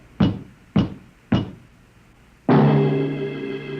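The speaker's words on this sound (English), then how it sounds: "The last man on Earth sat alone in a room. There was a knock on the door." Three sharp knocks on a door land in a slow, evenly spaced sequence, close and loud, followed by a sustained ringing musical chord.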